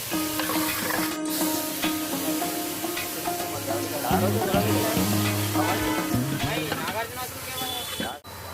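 Ginger garlic paste and turmeric frying in a pan as they are stirred, a continuous sizzle with scraping under a voice talking throughout.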